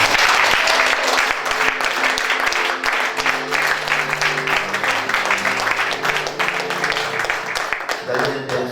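A church congregation breaks into sustained applause and acclamation, dense clapping mixed with cheering voices, with organ or keyboard chords sounding underneath throughout.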